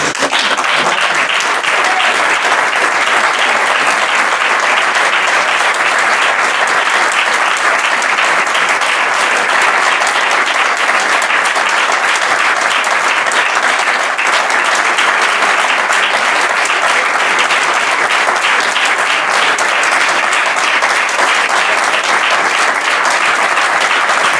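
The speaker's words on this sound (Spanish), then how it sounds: "creo que esta ovación lo dice todo." Sustained, loud ovation from an audience at an award ceremony honouring a colonel, dense steady clapping filling the whole stretch with no pauses.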